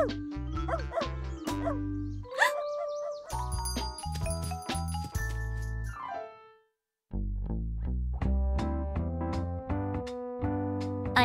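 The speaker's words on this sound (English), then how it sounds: "A dog." A cartoon dog barks in short bursts amid a busy children's learning show soundtrack, with jingly musical tones and effects layered around it, fairly loud throughout with a brief gap near the middle.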